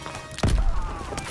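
A grenade goes off in the World War II shooter Call of Duty WWII during a D-Day campaign battle, a single short, dull thump close by over low background noise.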